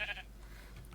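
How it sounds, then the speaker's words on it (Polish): A short, faint Minecraft sheep bleat at the start, then quiet background. "naszą koleżankę owce."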